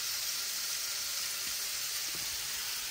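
Shrimp with garlic and seasoning fry in a pan, giving a steady, close hiss of sizzling throughout, with a faint scrape or two and no talk.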